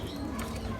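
Pet flying pigeons give a brief, soft coo, low and muffled, close by.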